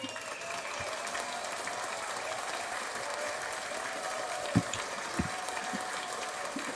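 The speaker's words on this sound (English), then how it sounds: "Let's get a round of applause for people." A round of applause plays as a steady, fairly quiet wash of many hands clapping, with a couple of sharper individual claps standing out near the end.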